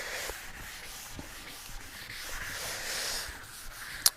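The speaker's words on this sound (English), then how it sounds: "I'll just give that a little extra rub there." A hand rubs down high spots in the drying finish on a teak swim platform, a soft, continuous scuffing that stays fairly quiet and close and ends with a sharp tick.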